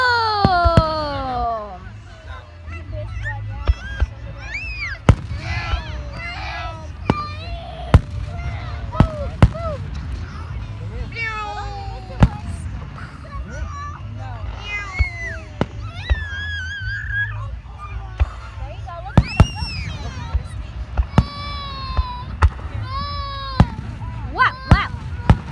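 Fireworks exploding in a night display: repeated sharp booms and crackles scattered throughout, with whistling rising shells, heard under excited talk from a nearby onlooker.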